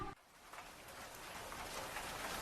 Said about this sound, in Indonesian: Iya Pak, besok aja, hujan deras ini.